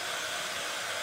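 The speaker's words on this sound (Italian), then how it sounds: "Per queste cose va bene anche il phon." A hair dryer blows steadily to dry freshly stamped craft ink, a continuous close broadband whoosh with no pauses or voices.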